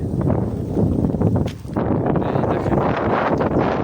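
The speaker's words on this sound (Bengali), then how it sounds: "আর হাওয়াটা দেখেন এতটা হাওয়া দিয়েছে" Strong wind roars and buffets the microphone in loud, continuous gusts, with a brief lull partway through.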